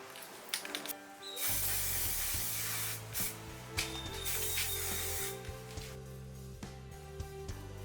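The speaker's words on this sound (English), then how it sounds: "apply a little bit of black paint on the hose clamp so they blend with the float" Black spray paint hisses from an aerosol can onto hose clamps on an underwater Steadicam float in a workshop, in a few continuous bursts broken by short pauses, fairly close and steady.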